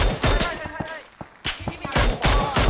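Rapid bursts of automatic gunfire in a Thai-language online shooter match, loud and close, firing in repeated volleys with a short lull in the middle, while players talk over it.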